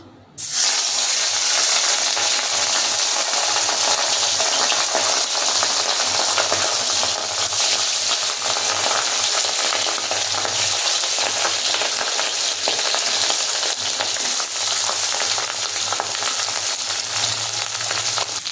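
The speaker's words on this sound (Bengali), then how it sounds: "তেলটা গরম হয়ে গেছে এবার একে একে মাছগুলোকে ছাড়তে থাকি" Katla fish pieces sizzle loudly in hot oil, a steady dense frying hiss that starts abruptly as the fish goes in and holds for the whole stretch, close up and alone with no talking.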